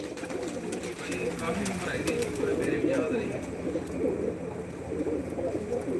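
An old pigeon coos softly in its loft, repeated low murmuring calls under a steady background hum with people talking nearby.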